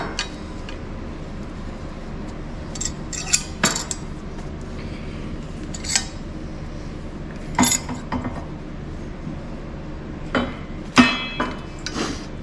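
A flare tool is cranked onto a metal fuel line for a dual-tank LS swap fuel system, giving scattered sharp metallic clicks and clinks over a steady low workshop hum, with no talking.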